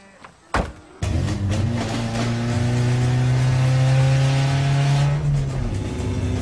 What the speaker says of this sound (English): the broken exhaust was lifting my mood